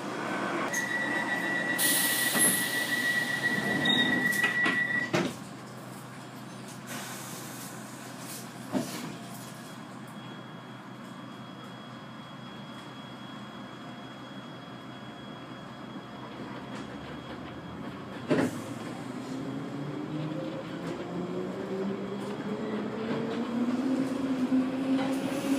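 A London Underground Piccadilly line train runs between Osterley and Hounslow West, a steady rumble with occasional rail clunks, an early high door-warning tone, and a rising whine of acceleration toward the end.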